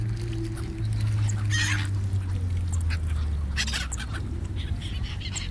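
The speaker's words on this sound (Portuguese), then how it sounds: "Gaivotas, cisne." Waterbirds at a lake in central Zurich, with seagulls and a swan, give a few scattered calls over a steady low hum of background noise, heard outdoors at moderate distance.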